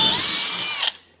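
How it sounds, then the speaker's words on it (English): A power drill bores a hole for a threaded insert during a Murphy bed build, its high steady whine holding for about a second before cutting off sharply. "First, I'm going to drill the holes"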